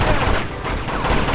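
Loud, rapid gunfire bursts from a pistol in the action video game Uncharted 2: Among Thieves, several sharp shots packed close together in a brief dense flurry.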